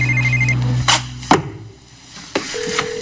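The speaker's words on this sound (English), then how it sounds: "Answer the phone." A telephone rings in a daytime soap opera scene, starting with a steady tone and then sharp, clanging bursts spaced apart, loud and close.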